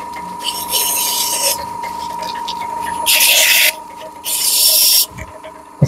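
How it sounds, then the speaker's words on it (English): Abrasive paper rasps against a piece of wood spinning on a lathe, steady hissing friction in bursts, with a loud stretch near the middle and another toward the end over a constant motor hum. "Sand out any marks that I got there."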